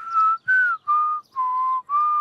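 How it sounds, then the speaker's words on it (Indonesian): Clear whistling alone: five sustained notes in a row, each separated by short breaths, close and fairly loud. "Bersiul membutuhkan banyak latihan."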